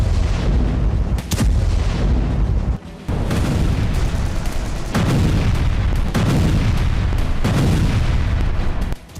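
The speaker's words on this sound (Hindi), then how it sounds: "सोमवार की सुबह भी गाजा पर बमबारी जारी थी" Heavy bombardment over Gaza, with repeated deep booming explosions rolling one after another, loud and continuous, broken by a brief lull, and no voices heard.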